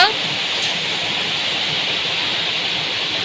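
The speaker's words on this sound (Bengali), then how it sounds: "দেখো ঝরে বৃষ্টি পড়ছে" Heavy rain pours down outdoors in a dense, steady hiss that stays loud and unbroken throughout, with no let-up.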